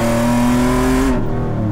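Supercharged Toyota RAV4 engine running loud and close, with a steady droning tone that rises slightly and then drops away sharply near the end, as if the throttle is lifted.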